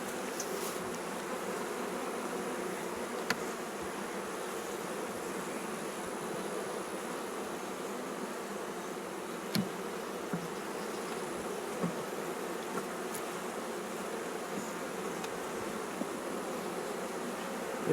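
Bees buzz steadily around an open three-deep eight-frame hive at a farm, a continuous close drone of many insects with occasional faint clicks and no talking.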